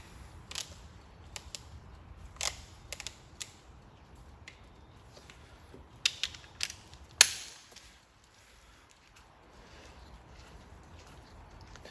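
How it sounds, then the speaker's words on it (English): A torque wrench set to 40 tightens bolts on a GM 10-bolt 8.5-inch posi differential: a series of sharp, close clicks and ratcheting creaks at irregular intervals, with a louder snap near the end and a quiet pause afterward. "Set our torque wrench to 40."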